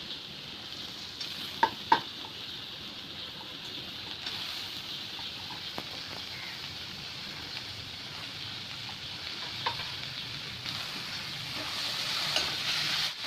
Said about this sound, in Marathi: आता हा कांदा परतून झालेला आहे आता त्यामध्ये मी टमाटर घालून घेते